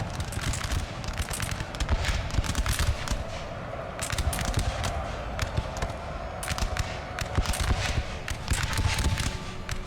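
Crackling musket gunfire from a Napoleon: Total War battle, dense irregular volleys of sharp pops bursting in waves over a steady rumbling din, with no talk.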